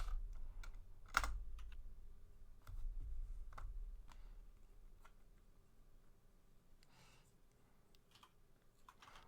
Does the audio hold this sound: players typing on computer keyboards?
yes